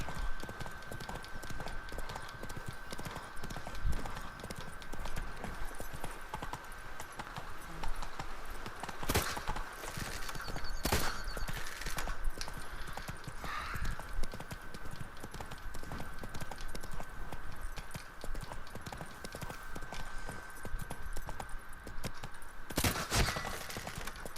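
Horse hooves clip-clop steadily on the ground as Geralt's horse Roach moves in The Witcher 3 Blood and Wine, with a few sharp cracking impacts cutting through the even, moderately loud trotting.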